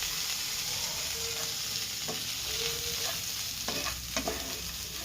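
Boti (tripe) being heated and stirred in a pan, a soft continuous sizzle with occasional scrapes and taps of a spoon against the pan, fairly quiet and without voices.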